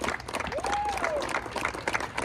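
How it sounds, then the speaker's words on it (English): Crowd applause at a game convention finale, dense clapping from many hands filling the space, with a rising whistle or cheer cutting through partway and voices mixed in. "Everybody, clap, clap, clap."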